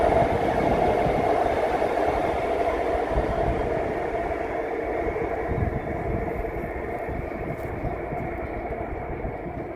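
An REM light metro train on test runs passes a station near Griffintown–Bernard Landry, a loud steady rumble with a rushing hiss that fades slightly over about ten seconds, with no talk.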